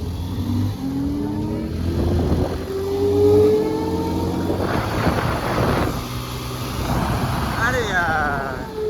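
An Ola electric scooter in normal mode drag racing a Bajaj Pulsar motorcycle: engine revving and a rising electric whine build and pull away close by, with wind buffeting and people talking over it.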